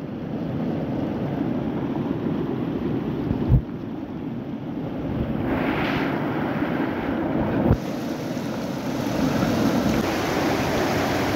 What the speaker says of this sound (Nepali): खोला है गाइजहरु।